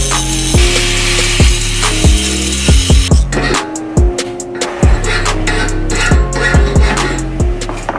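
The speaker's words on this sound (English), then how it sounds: "I'm going to wire wheel all this, clean it up so it's nice and clean" A wire wheel grinds and scrubs metal clean ahead of welding a coilover mount on a BMW E34, a harsh abrasive roar that keeps changing with repeated short bursts and dips in load, loud and close, with no talking.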